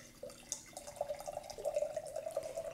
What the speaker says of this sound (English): fill this much with coconut water